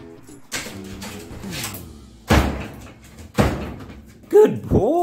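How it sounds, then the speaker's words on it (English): A trained retriever pushes a door shut on command, with several solid thumps and a bang against the door amid shuffling movement, while a voice gives praise over the noise. "All right, Spencer, close the door."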